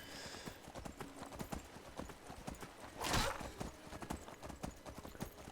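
Horse hooves clip-clop in a steady galloping rhythm in Skyblivion, the fan remake of Oblivion built in Skyrim, with a louder burst of noise near the middle and a brief whinny over constant game ambience.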